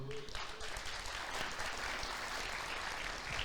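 A church congregation claps in praise during a sermon, a steady, fairly distant wash of many hands that holds evenly throughout.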